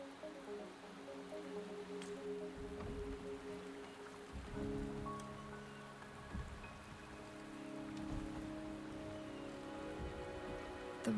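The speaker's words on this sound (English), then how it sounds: "The rain is subsiding, and the sky will soon clear." Steady rain falls in the video game Wuthering Waves, a soft even hiss that runs throughout under low sustained music tones, with no voices.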